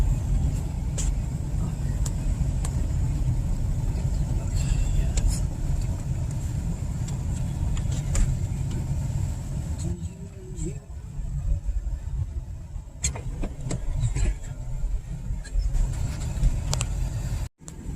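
A car rounds a corner and pulls into a parking spot, a steady close engine rumble with road noise throughout, easing near the end before stopping abruptly.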